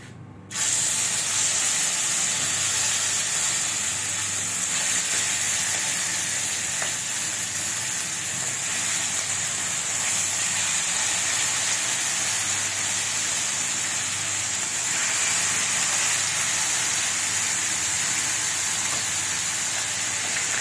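A pot of water with whole spices (bay leaf, cloves, black pepper, cinnamon, cardamom) going at a rolling boil, giving a loud, continuous hissing and bubbling rush that starts abruptly and holds steady throughout, with no voices.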